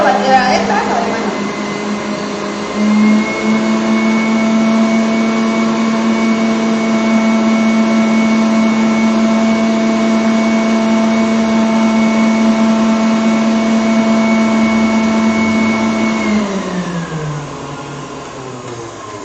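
An electric hand mixer whips cream for a tres leches cake, giving a steady high whine that holds for about fifteen seconds, then winds down as the beaters slow and stop.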